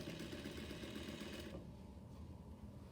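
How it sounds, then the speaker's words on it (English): A Juki industrial sewing machine stitches with a loud, steady, rapid whir for about a second and a half, then stops. "A few backstitch stitches, and then you're going to stitch forward."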